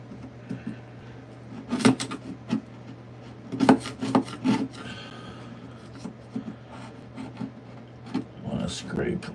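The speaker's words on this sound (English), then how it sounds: "I want to scrape with the grain." A tool scrapes along a wooden floor plank with the grain in several rough, rasping bursts of strokes, close by, over a low steady hum with some muffled voice sounds between strokes.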